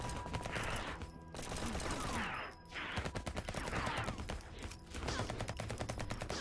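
Gunfire from overheating guns in the game Until We Die, a dense, steady rattle of rapid shots broken by brief pauses, loud and continuous with a faint voice underneath.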